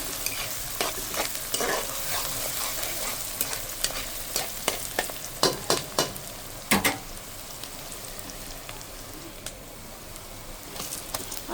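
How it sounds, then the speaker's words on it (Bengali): Onions frying in a pan for a beef and potato curry, stirred with a run of loud, irregular scraping and clattering strokes over a steady sizzle, close by with no talk. "পেঁয়াজটা ভেজে নিচ্ছি।"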